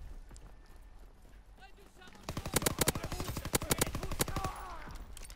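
A PPSh submachine gun fires in Call of Duty: WW2, starting after a quieter stretch with rapid bursts of sharp, loud shots in quick succession, while someone talks faintly over the game.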